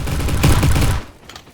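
Loud, dense gunfire from a video game, a continuous rattling burst that cuts off after about a second and leaves a faint echoing tail.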